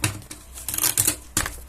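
Crisp paper creases and rustles in quick bursts as a sheet is folded for a handmade paper mask, close and sharp with brief pauses between crinkles.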